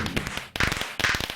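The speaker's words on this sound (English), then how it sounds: "Lots of fireworks. It's wonderful." Fireworks in a video game: three sharp firecracker-like bursts in quick succession, each followed by a crackling tail, loud and close with no talk over them.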